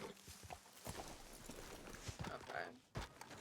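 Horse hooves clip-clop along a path in the Red Dead Redemption video game, a steady run of close hoof knocks heard under a player's ongoing talk and game sounds.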